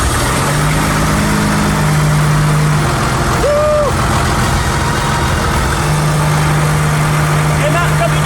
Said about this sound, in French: le moteur tourne comme une horloge